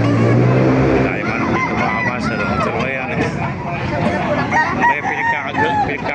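Rooster crowing among chickens at a busy poultry market in Baliuag, one crow ringing out early over crowd noise and men chatting nearby, with passing traffic in the background.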